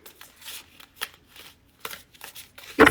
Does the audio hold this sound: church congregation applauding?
no